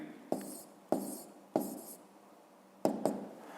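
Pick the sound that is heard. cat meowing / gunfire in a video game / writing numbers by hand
writing numbers by hand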